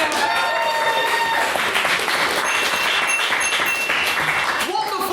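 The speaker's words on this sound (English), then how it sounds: "Wonderful clapping and dings." Audience in the Senate Room at Queen's University Belfast gives steady, dense applause at the opening of a debating society meeting, with bright ringing dings over the clapping, and a voice begins speaking at the end.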